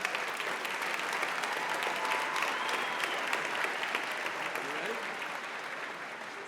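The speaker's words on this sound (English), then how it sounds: "One more applause for all of our support employees of the year." An audience at an awards ceremony applauds steadily for several seconds, a dense, even wash of clapping heard from a little distance that tapers slightly toward the end.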